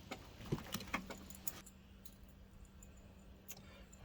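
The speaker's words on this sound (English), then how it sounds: "you can put these keys in" A small set of keys jangles and clicks close by at a Tesla-to-J1772 charging adapter with an anti-theft lock, several quick metallic rattles followed by a faint, quiet stretch with a light click near the end.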